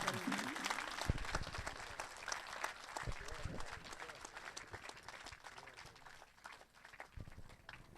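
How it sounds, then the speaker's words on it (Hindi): Applause from an audience at an award ceremony, a dense patter of many hands clapping at a moderate distance, with a voice speaking over it and the clapping gradually thinning. "तालियों में कंजूसी ना करें।"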